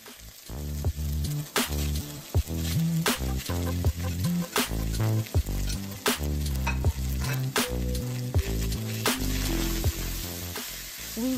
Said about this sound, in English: mix our tablet with all the meat, stir over high heat, and then add our multicolored vegetables